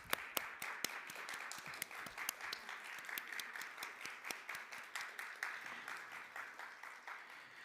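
Attendees at a university diversity showcase give a round of applause, sparse to moderate clapping with distinct individual claps standing out, fairly faint and heard from a distance, without speech.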